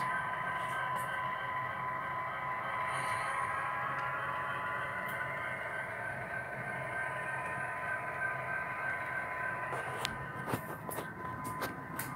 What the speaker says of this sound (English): the Canadian Pacific 7010 Heritage Route pulling a short grain train of three cars